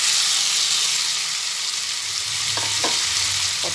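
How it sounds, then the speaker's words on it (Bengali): Fried pointed gourd (potol) stirred in hot oil in a pan, for potol alur rosa, giving a steady close sizzle with a few scraping stirs near the end. "পটলটা দিয়ে একটু ভালোভাবে নাড়াচাড়া করে নিই।"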